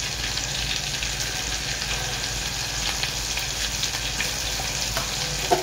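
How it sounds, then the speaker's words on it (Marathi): Ground masala paste fries in hot oil with garlic for a Maharashtrian fish curry, a steady close sizzle that holds throughout with a faint clink near the end. "आता वाटणला थोडा तेलामध्ये फ्राय करू."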